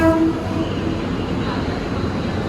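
A KRL commuter train rumbles into a station platform in the Jakarta area with a steady low roar, a brief horn-like tone at the start, and a faint announcement voice in the background.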